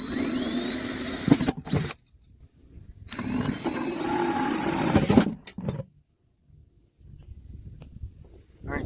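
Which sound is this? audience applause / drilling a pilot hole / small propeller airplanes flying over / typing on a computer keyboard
drilling a pilot hole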